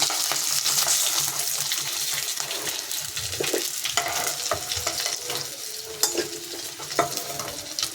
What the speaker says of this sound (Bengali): এখন লাল লাল ভাজতে হবে মাছগুলি